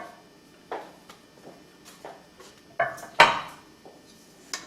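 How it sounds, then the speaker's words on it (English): Several light clinks and taps as a slotted spoon lays potatoes into a 13 by 9 buttered casserole dish, scattered irregular knocks of metal against the dish, close by with quiet pauses between, no talking. "with a slotted spoon, just take the potatoes, lay them out"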